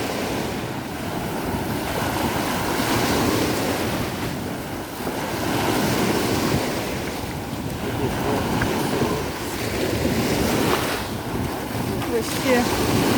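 Heavy Black Sea surf roars loudly and steadily with strong wind noise, surging and subsiding in slow swells over about thirteen seconds, and a few faint sharp sounds come near the end.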